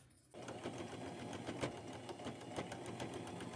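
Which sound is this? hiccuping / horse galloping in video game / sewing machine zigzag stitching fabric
sewing machine zigzag stitching fabric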